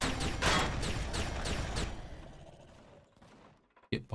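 Rapid gunfire bursts in the video game Empyrion Galactic Survival, a quick series of sharp shots in the first two seconds that fade out, with a brief clack at the end.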